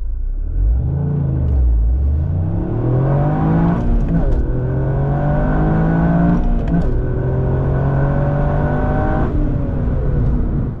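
A Toyota GR Yaris launching hard from just off idle as the clutch is released at full power, the engine note climbing steeply through several rising gear pulls, loud and close with steady road and drivetrain roar and no talking.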